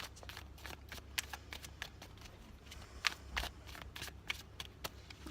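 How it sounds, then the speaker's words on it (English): Tarot cards being shuffled by hand, a steady run of soft, quick riffles and crisp card snaps, close and quiet, with no voices. "I just keep shuffling until I feel that the shuffling process is completed."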